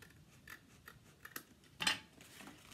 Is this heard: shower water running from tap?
no